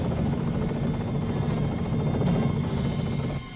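A helicopter from an animated Lupin the Third movie drones steadily with a continuous whirring rotor hum at a constant loudness throughout, with no voices heard.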